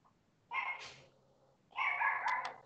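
Two bursts of dog barking, one short and one longer, fairly close and clear, with quiet room sound between them and no talking.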